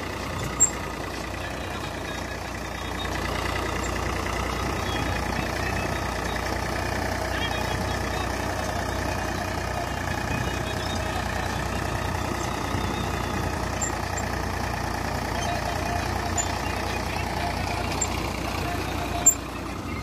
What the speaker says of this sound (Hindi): ट्रैक्टर की आवाज बहुत ही शानदार है।